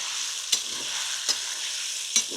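Besan gatte (gram-flour dumplings) frying in hot oil give a steady, bright sizzle, broken by three sharp clicks of a stirring spoon against the pan.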